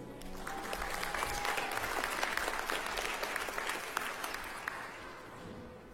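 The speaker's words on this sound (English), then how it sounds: "Let's have a round of applause for all those who received their master's degrees here today." Steady, dense applause from a large audience at a graduation ceremony honoring master's degree recipients, sustained for several seconds and slowly tapering off near the end.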